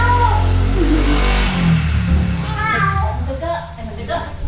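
A cat meows several times in a loud, busy setting, its cries rising over a low engine-like rumble and ongoing talk from people nearby.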